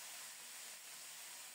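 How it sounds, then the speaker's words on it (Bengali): Potatoes frying in a pan of oil left over from frying a fish head, a steady soft sizzling hiss with no other sounds, fairly quiet and continuous. "ওই তেলেই আলুগুলো ভেজে নেব।"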